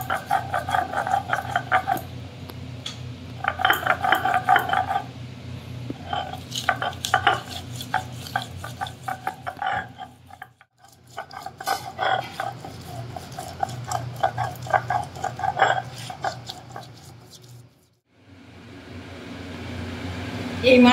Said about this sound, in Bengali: জিরে আদা বাটা দিয়ে দিচ্ছি শিলনোড়ায় আদা আর কাঁচা লঙ্কা আর জিরে